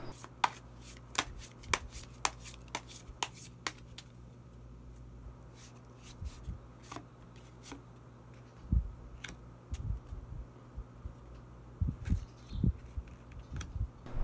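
Tarot cards shuffled and drawn at a reading, a run of crisp card flicks and riffles in the first seconds, then soft handling taps and thumps, fairly close and quiet over a steady low hum.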